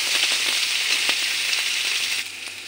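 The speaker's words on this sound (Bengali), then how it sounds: "এখন হালকাভাবে ভাজা করে নেব।" Beans and capsicum frying lightly in a pan, giving a steady close sizzle with scattered crackles and stirring scrapes that ease off near the end.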